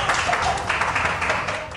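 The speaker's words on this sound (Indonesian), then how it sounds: "Tepuk tangan buat orang Swedia ya, keren." Brief burst of audience clapping at a motivational talk, honoring Swedish guests, moderately loud and fairly dense, fading out quickly at the end.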